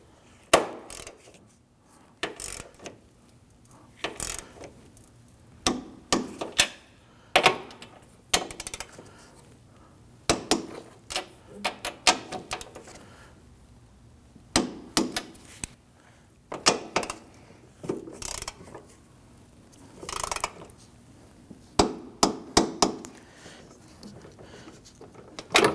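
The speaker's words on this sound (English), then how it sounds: "Go ahead and torque these down to" A torque wrench tightening strut bolts on a 2010-2019 Ford Taurus, with repeated sharp ratcheting clicks in short bursts separated by pauses, close and fairly quiet.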